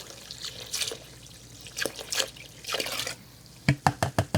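Hard cider is poured into a bucket with irregular liquid splashes and trickles. Near the end come several quick, distinct glugging pulses in a steady rhythm.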